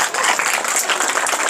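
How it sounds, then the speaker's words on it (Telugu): Students applauding at an annual day celebration at a school event, a steady dense wash of many hands clapping together for a brief moment. "పక్కన పెద్దవాళ్ళకి మళ్ళొక్కసారి మీ చప్పట్లు"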